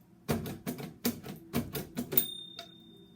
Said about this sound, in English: I press down certain keys to make braille dots.